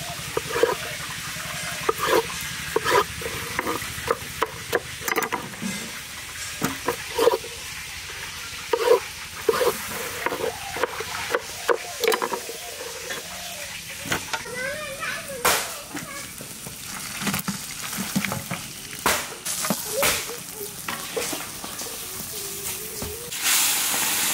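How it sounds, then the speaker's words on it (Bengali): Large golda prawns fry in a pan at an outdoor village cooking spot, a constant sizzling hiss punctuated by sharp clattering knocks, while people talk nearby over the frying. "ওইদিকে চিংড়ি মাছ ভাজতেছে"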